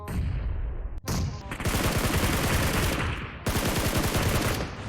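Rapid automatic gunfire bursts in the PUBG Mobile battle royale game, loud and dense, with a brief gap near the second mark and sustained volleys throughout.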